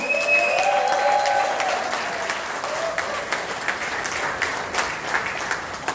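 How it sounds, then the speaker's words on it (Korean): Lecture audience at a political talk breaking into sustained applause, dense clapping from a crowd that gradually thins out, with a brief voice or tone over it near the start. "다시 한번 큰 박수를 부탁드립니다"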